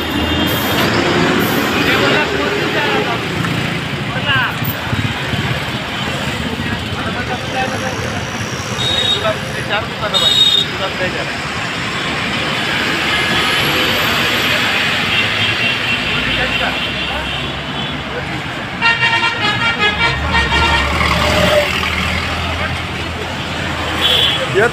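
A long queue of cars and other vehicles crawls along the Pune-Nagar road, heard as a loud, steady roar of engines and road noise from close by, with people talking over it.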